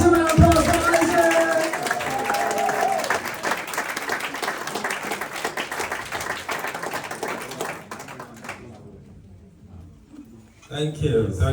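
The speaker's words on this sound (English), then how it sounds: "Let's give it a massive round of applause for Isaac!" A wedding crowd breaks into a big round of applause, dense clapping that fades gradually, followed by a brief pause and the start of more noise.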